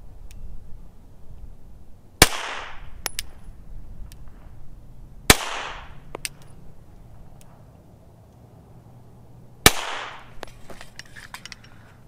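Three sharp gunshots from a Gen 3 Glock 9mm pistol on a training range, spaced a few seconds apart, each a loud crisp crack with a short ringing decay over quiet background.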